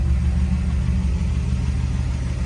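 A 3rd-generation Firebird Formula's engine idles steadily after running for a while, a low, even rumble close to the car with no voices over it.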